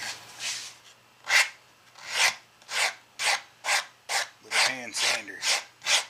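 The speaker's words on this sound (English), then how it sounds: "hand sander." A small hand sander works a maple guitar pickup ring in about a dozen even back-and-forth rasping strokes, close and moderately loud, with a faint voice in one stroke.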